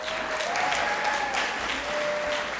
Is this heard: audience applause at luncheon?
yes